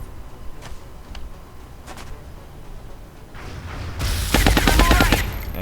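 Machine gun fire in XCOM: War Within: a few faint scattered shots at first, then a loud rapid burst of automatic fire near the end, with no talk.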